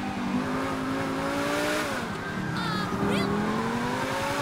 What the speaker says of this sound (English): I think I'm like driving in circles here now.